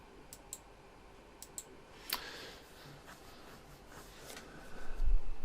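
Computer mouse buttons click a few times in quick, sharp isolated taps near the microphone while navigating a spreadsheet, with soft handling noise and a low bump toward the end.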